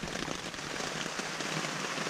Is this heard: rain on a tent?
yes